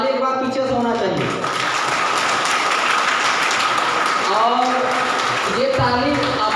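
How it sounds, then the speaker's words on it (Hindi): An audience at a DXN meeting gives loud, sustained clapping that runs through the whole clip, with a crowd cheering over it and a voice rising and falling above the noise. "ताली एक बार पीछे से होना चाहिए।"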